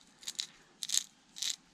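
Faint gritty mechanical clicks in three short bursts as the spur gear of a Losi RC car center differential is turned by hand with leftover diff fluid, quiet and close with no talking.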